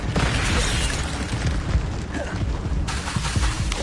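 A fiery Incendio spell blast bursts in the Hogwarts Legacy video game: a dense, loud, crackling roar of flame and impact that holds for several seconds, with a fresh surge near the end.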